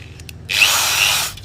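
Power drill whirring as it bores into a rat trap cage, a single steady burst of about a second after a brief quiet lead-in, loud and close with no talk.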